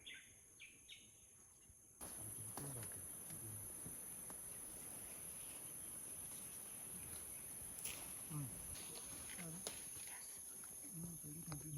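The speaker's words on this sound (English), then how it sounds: "Yes, lots of insects there." Outdoor insects keep up a steady high-pitched drone and chirring, joined by occasional bird chirps, with a person speaking softly over it.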